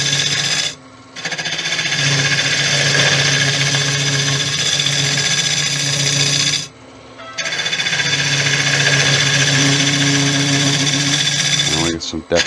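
A gouge hollows out a Balinese teak vase spinning on a wood lathe, giving a steady, loud scraping and cutting roar that runs almost continuously, with two short pauses where the tool lifts off the wood.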